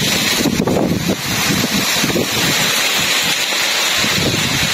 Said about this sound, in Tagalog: Grabe mga idol, napakalakas ng hangin oh.